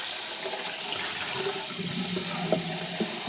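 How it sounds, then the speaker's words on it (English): Water runs steadily from a kitchen tap as a cooking pan is rinsed out. The splashing is loud and close and continues throughout, with a few faint clanks of the pan against the sink. "Go ahead and rinse that pan out."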